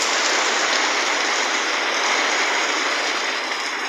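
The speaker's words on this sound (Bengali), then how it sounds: "এই দেখুন বৃষ্টি পড়তেছে" Heavy rain falls steadily, arriving just before sunset after the afternoon prayer, making a dense, loud, unbroken wash of hissing patter with no pauses and no voices.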